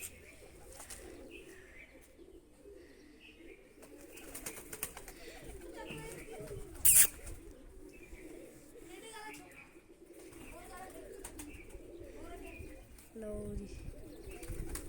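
Pigeons coo softly in a repeated low rhythm, with occasional chirps and a brief burst of wing flapping midway, heard outdoors over faint background noise and scattered voices.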